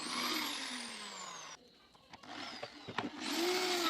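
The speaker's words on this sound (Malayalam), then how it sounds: "കപ്പി ആ 3 പോയിന്റുകളും തുളച്ചെടുത്തിട്ട്" A power drill bores holes into a pulley for a homemade toy-vehicle build, whining steadily at close range, dropping out briefly with a few knocks, then spinning up loudly again.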